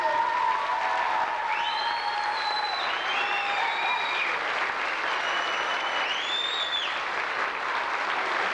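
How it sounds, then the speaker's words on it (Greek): An audience at a primary school event applauds the pupils, a loud, sustained round of many hands clapping with a few high tones riding over it. "Το ένα είναι ένα πολύ μεγάλο ευχαριστώ για το χειροκρότημά σας"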